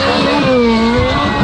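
A Ferrari F430 Scuderia's engine roars loud and close at a standing launch, a sustained high-revving howl with rising harmonic tones, heard alone without voices.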